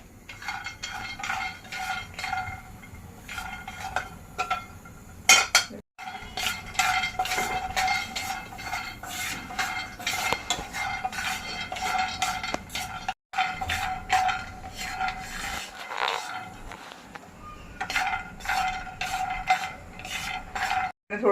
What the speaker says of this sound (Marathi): तर प्रथम मी काय करते हे शेंगदाणे भाजून घेते बघा